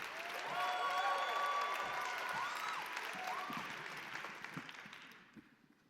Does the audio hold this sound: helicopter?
no